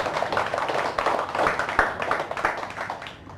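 A church congregation claps to welcome a visiting pastor, a missionary serving in Myanmar, with dense, steady hand claps filling the room throughout and no talking over them.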